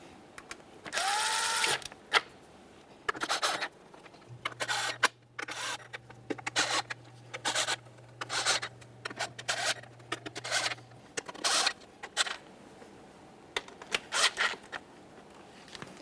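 A ratchet or wrench clicks in short bursts as the intake manifold bolts on a 3.7L V6 Acura MDX (2007-2013) are run down, with brief metallic clicks and scrapes repeating close by.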